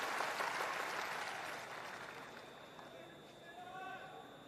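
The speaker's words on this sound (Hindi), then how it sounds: "एक बार जोरदार ताली बजाकर इनका अभिवादन तो कीजिए।" Audience applause at a Muslim leadership conference, a broad wash of clapping that starts strong and gradually thins out over a few seconds, with faint voices underneath.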